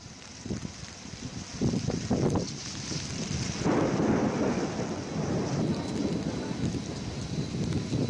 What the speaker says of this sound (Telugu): హైదరాబాద్లో భారీ వర్షం భీభత్సం సృష్టించింది